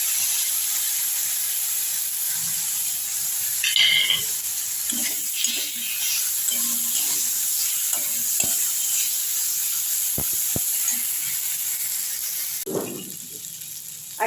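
Soft mixed vegetables, including mango, pointed gourd and long beans, fry as a paste of poppy seed, sesame, mustard and green chilli goes in, making a steady hissing sizzle with scattered taps and stirring and no voices.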